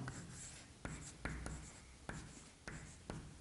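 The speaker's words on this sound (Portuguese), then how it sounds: "Vamos escrever assim, pessoal." Chalk or marker writing on a board during a grammar lesson, a faint hiss of strokes punctuated by about six sharp taps at irregular intervals, quiet and close, without speech.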